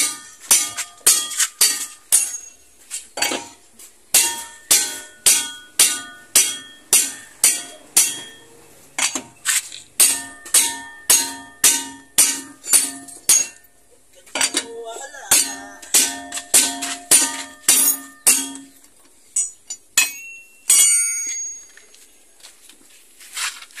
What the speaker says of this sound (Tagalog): pag matigas, pinupukpok nila ng martilyo